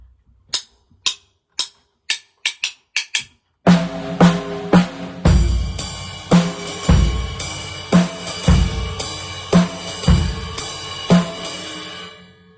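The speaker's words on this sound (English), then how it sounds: "3, and then put your bass drum on beat 1 and your snare on beat 3 once you repeat that beat" Swung eighth-note drum kit beat with bass drum and snare, opening with a row of sharp single counted hits, then settling into a loud, steady repeating groove of kick and snare with cymbal wash over it.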